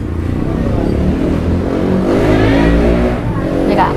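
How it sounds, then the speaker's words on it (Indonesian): Steady roadside traffic of passing motorcycles and cars beside a satay stall in Metro, Lampung, forming a continuous loud rumble with engine revs swelling and fading, with some voices mixed in. "Di pinggir jalan jadi suara-suara motor mobil, harap maklum."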